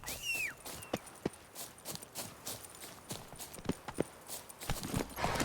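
Hooves of the horse Roach in The Witcher 3 clop along at a steady, rhythmic trot, fairly quiet and close, with a brief high chirp at the start.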